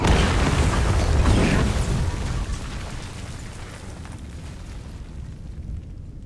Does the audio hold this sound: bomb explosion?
yes